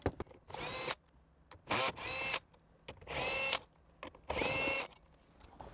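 Power tool with a 10mm socket spinning out four bolts on a 2023 Toyota 4Runner, four separate whirring bursts of roughly a second each with short quiet gaps between them, close and fairly loud, no talking.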